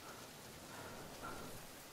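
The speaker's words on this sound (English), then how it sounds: "It's rained twice in like 30 seconds." Rain in the video game The Forest falls as a soft, steady patter and hiss of drops on surfaces, faint and continuous throughout, with no talk.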